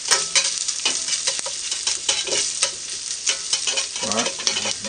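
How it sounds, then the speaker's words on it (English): Onions and sliced vegetables sautéing for a cheese and veggie omelette, a steady sizzle under repeated spatula scrapes and stirs, close and fairly loud, with a brief voice-like sound near the end. "Alright, so saute it a little bit."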